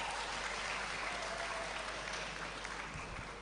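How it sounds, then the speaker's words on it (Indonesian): Applause from a university audience at a public debate forum in Indonesia, a continuous, fairly faint patter of many hands clapping from a distance, tapering slightly toward the end. "Sebelumnya kita tepuk tangan untuk IKIP PGRI Bojonegoro."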